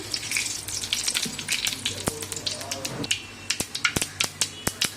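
Panch phoron spices sizzle and crackle in hot mustard oil in a pan, with a busy hiss early and then sharp, irregular popping spits that grow more spaced toward the end.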